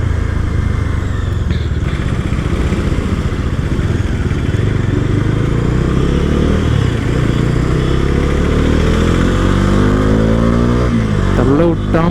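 A Bajaj motorcycle engine runs loud and close throughout, its pitch swelling and falling as it is revved and throttled, with a rising sweep near the end; no one speaks over it.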